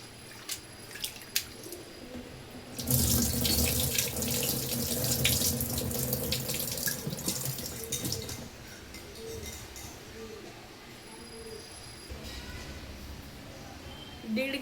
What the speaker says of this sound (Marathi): 4-5 पाण्यातून आपल्याला हे तांदूळ धुवून घ्यायचं आहे